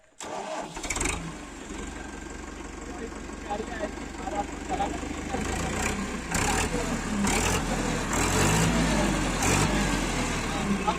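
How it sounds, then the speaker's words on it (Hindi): A diesel tractor engine cranks and catches, then settles into a steady, loud rumbling idle close by, continuing throughout. "ट्रैक्टर की आवाज आएगी। आप सुनिए एक बार। हाँ, ये मैंने स्विच ऑन कर दिया है।"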